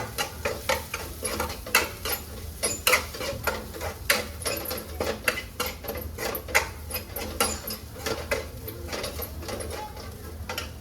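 Soya chunk bhurji being stirred in a pan, with a steady run of close clinks and scrapes from a spoon against metal over a faint background sizzle.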